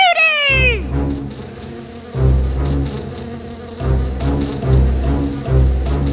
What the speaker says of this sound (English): Dorothy and her friends saw the bees flying towards them.